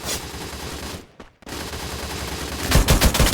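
Bursts of rapid gunfire in the video game Free Fire crackle loudly, pausing briefly before heavier volleys resume near the end, with a dense background din throughout.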